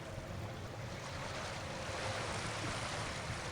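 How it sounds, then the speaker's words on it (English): Loud, steady roar of ocean waves and surf in the fantasy role-playing video game Arcanum, a continuous broadband wash with no breaks, heard alone without any talking. "We're about to get blasted by the sound of the waves."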